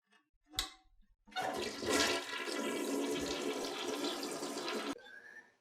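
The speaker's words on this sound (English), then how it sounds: "flush the weed down the toilet" A toilet flushes with a sudden loud rush of water that roars steadily for about four seconds and then cuts off, preceded by a brief click of the handle.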